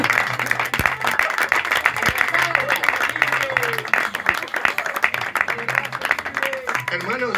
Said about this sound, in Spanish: dale un fuerte aplauso, en serio.